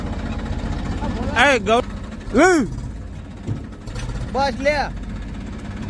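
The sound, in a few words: tractor engine running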